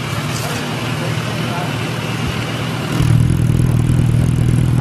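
Suzuki Bandit 650 motorcycle with a Coyote exhaust, valve opened to sport mode, running steadily nearby; its low drone grows louder and fuller around the three-second mark and holds to the end.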